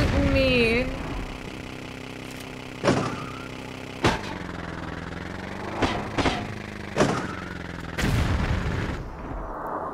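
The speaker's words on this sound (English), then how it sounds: "Someone's shooting me. Who's shooting me?" Enemy gunfire aimed at the player in Tomb Raider: The Last Revelation, in besieged Cairo's City of the Dead: a handful of loud, separate cracks spaced a second or two apart over steady game ambience.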